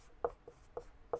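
Chalk or a marker writes on a board during a classroom physics lesson, making three or four short, faint tapping strokes spaced at an even rhythm, close by with no talk.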